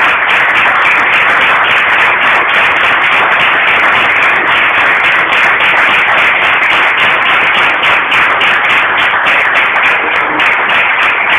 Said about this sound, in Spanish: despedimos al doctor Capuleto con un fortísimo aplauso